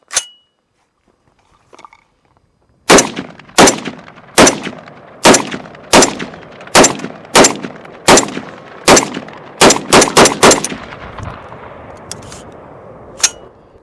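A CMMG Mk47 rifle fires Red Army ammunition fed from a P-Mag: about a dozen loud, sharp outdoor shots at a steady semi-automatic pace, quickening toward the end before a ringing tail fades out.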